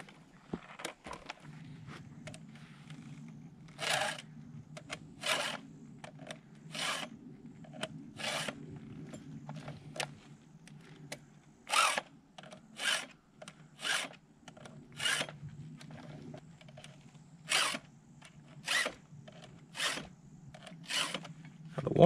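A chainsaw chain from a Stihl MS462, left loose on the bar, is sharpened tooth by tooth with a hand file, giving crisp rasping strokes in short repeated bursts, close and clear over a faint steady hum.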